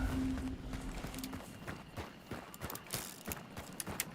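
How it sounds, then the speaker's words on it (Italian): Horse hooves clip-clop in a Sicilian-language video game, a quick run of hoofbeats over a busy game soundscape with a steady low hum at the start, fairly close and moderately loud. "Cavallo."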